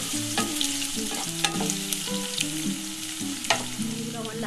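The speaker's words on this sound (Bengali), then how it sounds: "একটু লাল লাল করে ভেজে নেবো" Chopped onion and a bay leaf fry in hot oil for a mutton and potato curry, a steady close sizzle broken by repeated scraping and clinking stirs of a spatula against the pan.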